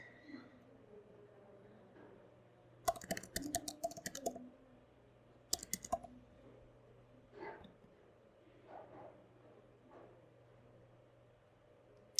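Quiet bursts of typing on a computer keyboard to enter a password, two short clusters of key clicks over a low hum, with faint sounds in between.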